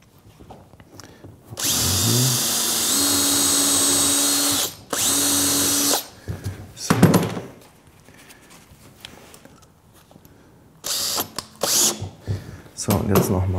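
A power drill drives screws while a subwoofer enclosure is built for an Audi A6 4G, with two long loud whining runs, a pause, then shorter bursts and clicks; brief talk occurs between bursts.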